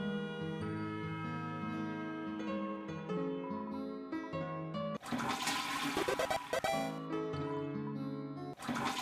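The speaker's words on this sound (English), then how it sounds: "Gotta flush the toilet 7 times." A toilet flushes in the video game Deltarune. Tonal game music plays for several seconds, then a loud gushing flush breaks in partway through and churns on as the music continues.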